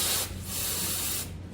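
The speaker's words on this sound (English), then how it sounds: "spray a little brake parts cleaner in there" Brake parts cleaner sprays from an aerosol can into the engine of a 1978 Chevy truck, a close, hissing spray held for about a second between brief pauses.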